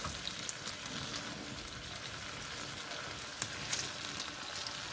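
Cauliflower frying in oil over a coconut-leaf-fuelled wood fire outdoors on a windy winter day, a soft steady sizzle with scattered faint pops and crackles, fairly quiet.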